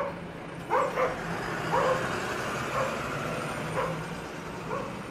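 A dog barks a few times in a busy town square, single woofs spaced about a second apart, moderately distant over a steady wash of traffic noise from cars, buses and trucks.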